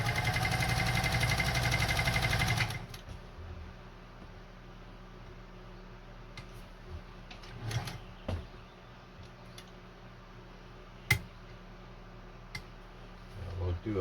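Singer 201-2 sewing machine running a fast stitch through regular fabric with regular thread: a loud steady mechanical whir for about two and a half seconds, then stopping to quiet handling clicks and faint rustle.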